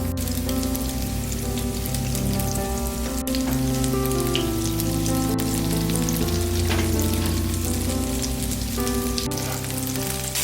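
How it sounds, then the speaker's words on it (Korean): Enoki mushroom pancake batter fries in plenty of oil in a pan over medium heat, giving a steady, close crackling sizzle that runs throughout with no talking. "중불로 달군 팬에 식용유를 넉넉히 둘러주세요. 반죽을 한 숟가락씩 떠서 앞뒤로 노릇하게 붙여주세요."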